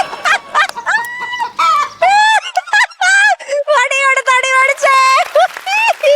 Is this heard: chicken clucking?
yes